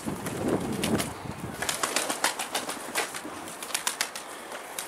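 A pigeon flies back and lands outdoors, a soft rush of flapping wings building then settling, followed by a series of light rhythmic wingbeats and movement, fairly faint.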